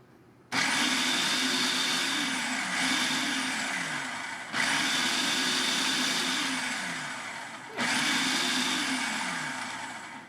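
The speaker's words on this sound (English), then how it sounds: "now that our dry ingredients are all in our food processor, we're going to pulse" Food processor pulsing dry shortbread ingredients, three loud motor bursts of a few seconds each, whirring and grinding close up with brief pauses between.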